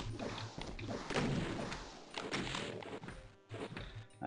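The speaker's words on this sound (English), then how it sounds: "Okay, time for the shotgun again" Shotgun blasts in Final Doom's Plutonia level Cyberden, several close, heavy, punchy shots spread across the clip amid game noise and thuds.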